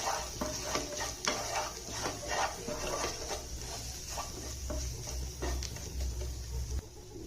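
Coriander and cumin powder are stirred into a beetroot paratha mixture in a pan, with repeated scraping strokes and a light sizzle running steadily underneath.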